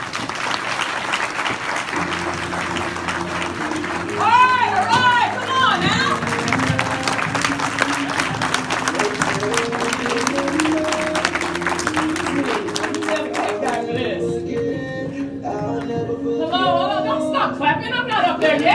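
Sustained applause from a large crowd, dense clapping with cheers and whoops, continuing steadily while voices call out over it.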